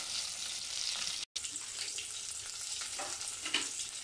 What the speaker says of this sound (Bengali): তেলের মধ্যে ভালো করে যাতে ফ্রাই হয় এবং মাংস যাতে কাঁচা থেকে না যায়, তাই ভালো করে ফ্রাই করে নিচ্ছি।